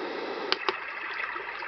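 The ocean setting on a HoMedics SoundSpa produces a steady, quiet wash of surf-like noise, with two brief sharp clicks near the middle and soft swells rising and fading through it.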